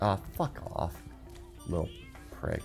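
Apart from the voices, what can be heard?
Cowlix enemy's cat-like noise in Spyro: Ripto's Rage video game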